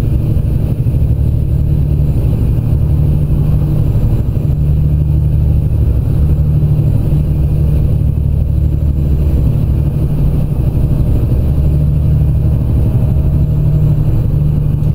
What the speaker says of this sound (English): today's engine underneath the hood on the 387 is the Caterpillar C15, 550 horsepower